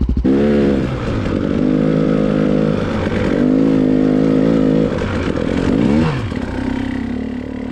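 A dirt bike engine roars loud and close while riding through deep snow, revving steadily with brief pitch swings as the front end slews for traction.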